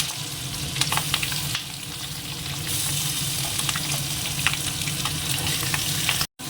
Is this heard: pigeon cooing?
no